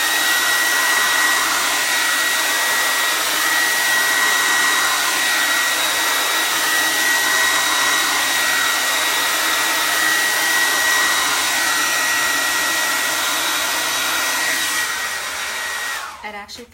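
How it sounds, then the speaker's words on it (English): A handheld heat tool blows steadily and loudly for about sixteen seconds, drying chalk paste on a rustic wreath sign, then cuts off at the end. "I'm just going to add a little heat to it just to make sure"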